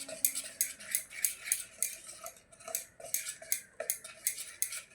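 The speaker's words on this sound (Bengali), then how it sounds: "এই লবণ আর এলাচ গুঁড়োটা আমি ভালো করে মিশিয়ে নেব।" A spoon clinks rhythmically against a bowl while mixing flour and semolina batter with salt and cardamom powder, steady quick strokes with a brief pause midway, close up and no talking.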